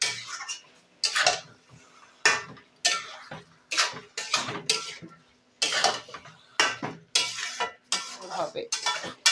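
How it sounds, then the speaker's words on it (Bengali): A utensil scrapes and clatters against a pan over and over in steady strokes as chicken with spices is stir-fried for jeera chicken, loud and close. "দিয়ে এই মশলা দিয়ে চিকেনটাকে ভালো করে কষিয়ে নেব"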